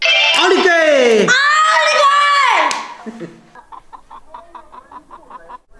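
Hens clucking loudly near the microphone, a rising and falling squawk in the first half followed by softer, broken clucks and short calls.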